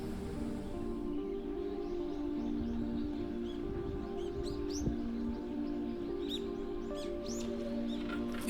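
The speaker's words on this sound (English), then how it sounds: "they'll hear the sound of the birds in the trees on the recording they made" Birds singing in trees at a shrine in Kyoto, scattered faint chirps and tweets over a steady low hum of background noise.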